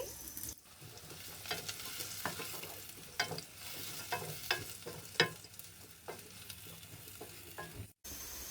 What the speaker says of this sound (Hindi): अब हम इसमें 2 अदद प्याज डालेंगे। प्याज को हम हल्का सा ब्राउन करेंगे।